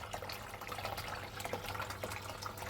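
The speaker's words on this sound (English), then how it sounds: "the Flower Gold Wizard Micro Sluice is doing its thing over there" Water runs steadily through a Flower Gold Wizard micro sluice during a gold panning session, a continuous close trickling wash with small splashes and no voices.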